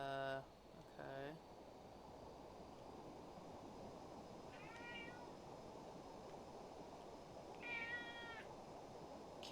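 Cats meowing indoors during a game stream, two quick close meows at the start and two fainter, higher meows later, over a steady background hiss.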